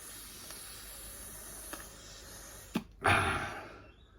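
Compressed air blasts through an old, rusty dirt bike's brake cable after faint hissing, with a short burst followed by a loud, close, sustained rush that fades out, and no talking.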